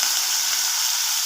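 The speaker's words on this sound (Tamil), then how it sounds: "இதுக்கு ஆயில் சேர்த்திட்டு சின்ன வெங்காயம், பச்சை மிளகா, வரமிளகா தாளிச்சுட்டு" Shallots, green chillies and dried red chillies tempering in hot oil make a loud, bright, unbroken hiss of sizzling at close range, steady throughout with no voices.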